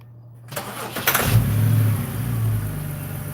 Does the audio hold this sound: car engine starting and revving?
yes